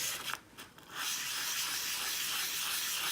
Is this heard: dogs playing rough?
no